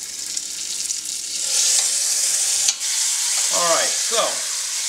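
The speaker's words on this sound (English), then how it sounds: "My meat is browning nicely." Beef for roast beef po'boys browns in hot oil in a pan with a steady, close sizzle and some stirring, while a person speaks briefly.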